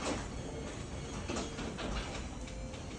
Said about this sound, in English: The garage door will bring itself down.